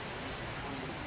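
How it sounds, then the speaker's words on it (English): Rain falls steadily in a continuous, even hiss that stays constant throughout, with no other distinct sounds standing out. "Yeah, it's still raining, never mind."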